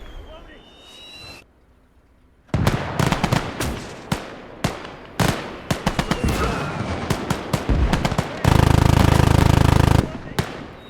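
Heavy machine guns fire in a WWII battle video game, with loud bursts and rapid chattering volleys separated by brief gaps, then a sustained hammering burst near the end among other battle noise.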